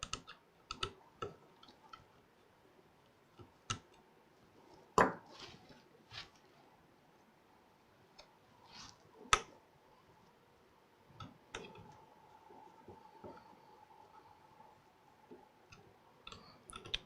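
Small screws being snugged down on NVMe drives inside a TerraMaster F8 SSD Plus NAS, sparse close metallic ticks and clicks with quiet gaps between them, no talking.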